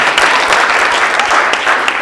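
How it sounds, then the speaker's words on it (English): A conference audience gives a loud, dense round of applause for a business speaker, an unbroken roar of many hands clapping close and energetic. "Give me another round of applause"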